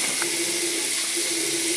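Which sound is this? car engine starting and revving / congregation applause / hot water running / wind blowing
hot water running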